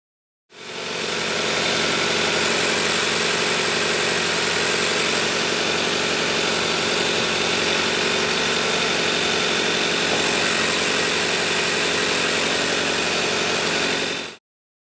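A Toyota A25A direct-injection engine idles with its high-pressure fuel pump ticking, its cover removed, producing a steady, close, continuous mechanical drone with a dense, even texture throughout and no voices.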